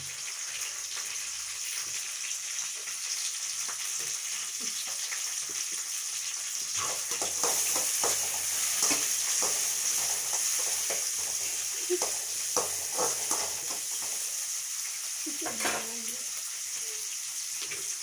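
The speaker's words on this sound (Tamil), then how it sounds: "வெங்காயம் பொன்னிறமாக வர வரைக்கும் வணக்கிக்கலாம்." Onion frying in oil in a kadai with mustard seeds and curry leaves, a steady bright sizzle with repeated scraping stirs of a spoon against the pan, growing busier midway and alone without talk.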